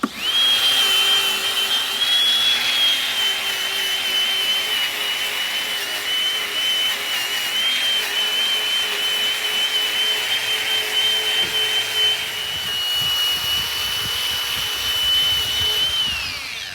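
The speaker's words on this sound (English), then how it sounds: "we're just going to use a wire cut brush and scuff everything up, get it ready for primer" Wire brush scuffing Case 580CK backhoe transmission parts to prep them for primer, a steady, loud whirring power-tool drone with a high whine that holds almost unbroken for the whole stretch.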